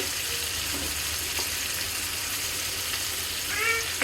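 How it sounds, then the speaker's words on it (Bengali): Ground turmeric, chili, cumin and coriander powder fry in a pan with a steady, close hiss and crackle and a few light stirring taps, for a prawn and ridge gourd curry. "এখন আমি এগুলো একসাথে ভেজে নিব মশলাটা"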